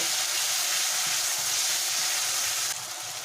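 Garlic paste sizzles steadily in a hot pan, the first step of an old-style Bengali chicken curry, a constant close frying hiss with no voices.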